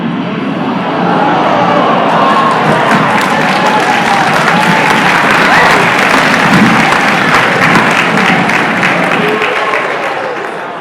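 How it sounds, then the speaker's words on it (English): A large conference audience applauds in sustained, dense clapping that holds steady for about ten seconds before starting to taper, loud and close, with no clear speech over it. "Okay, I'm glad you clapped"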